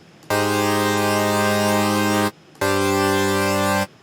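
Dry synth chords from an Omnisphere preset for a dark beat, with no effects, ring out as two long sustained chords, loud and static, separated by a short gap.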